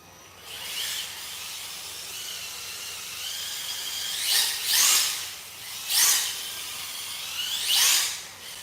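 RC car electric motor running with its cooling fan, body removed, giving a faint steady whir broken by several loud hissing high-pitched revving bursts near the end, alone without talk.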